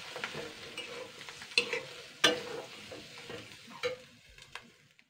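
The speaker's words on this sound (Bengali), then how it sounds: "মাছের ডিমটা ভালো করে এবার নাড়াচাড়া করতে হবে।" Fish roe fries in plenty of oil in a pan, a soft continuous sizzle with a few sharper scrapes and taps as a spatula stirs it, fairly quiet and without speech.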